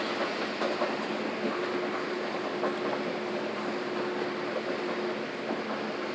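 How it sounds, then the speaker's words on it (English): A steady train rumble with rhythmic clacking of wheels over rail joints, a continuous close interior roar with a faint hum throughout. "I should ride the train one last time"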